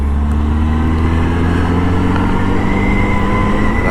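Honda CRF motorcycle engine running steadily while ridden on Norwegian roads, a continuous close drone with a slowly rising tone suggesting gradual acceleration, with no voices.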